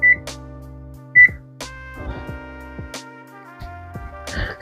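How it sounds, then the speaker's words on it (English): A kitchen oven set to 375 degrees gives two short, clear electronic timer beeps about a second apart, followed by soft clatter and handling noises nearby. "we're gonna start the timer for 20 minutes"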